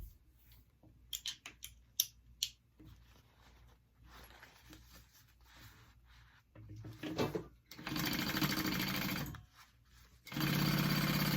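Sewing machine stitching fabric for a mini backpack, heard in intermittent runs with a long steady burst near the end, broken by pauses and small handling noises.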